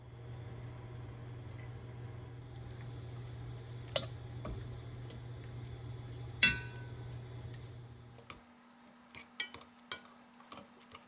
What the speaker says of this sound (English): I'm gonna get these potatoes mashed